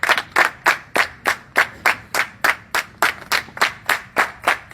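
A church congregation claps in steady unison to acclaim the Lord, with about fifteen sharp, evenly spaced claps close by and no voices over them.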